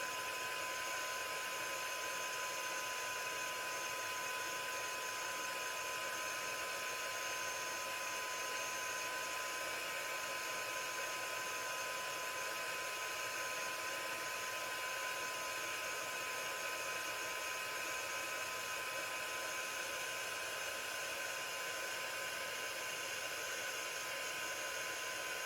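A heat gun blows steadily on an embossed jesmonite tile, giving a continuous, close, whooshing roar with a high whine that stays unchanged from start to finish. No one talks.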